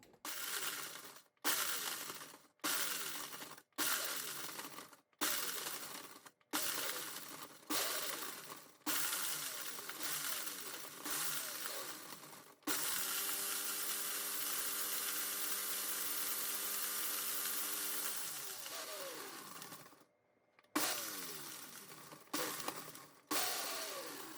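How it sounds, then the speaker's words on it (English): A blender grinds dried pumpkin into powder in repeated short pulses, rattling and crunching, then runs steadily for several seconds before more brief pulsed bursts. "we're going to grind this to a fine powder the best that we can within the blender"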